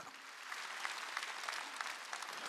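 A church congregation claps steadily during a Korean Sunday worship service, a dense, even wash of many hands with a few sharper accents, filling the room without voices.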